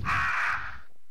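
A single loud, harsh crow caw from the game Resident Evil 1.5, one drawn-out raspy call close up that fades after about a second, with no talking over it.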